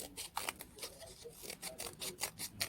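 Scissors snipping along the edge of a paper page for a junk journal, a close series of quick, rasping cuts repeating steadily with no one talking.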